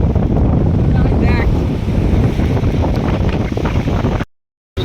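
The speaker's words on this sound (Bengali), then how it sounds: "এখন বিচে আছি আমরা, চরম হাওয়া দিচ্ছে, ঝোড়ো হাওয়া" Strong, gusty wind roars and buffets the microphone at New Digha beach at low tide, with faint surf and a brief voice underneath, then cuts out abruptly near the end.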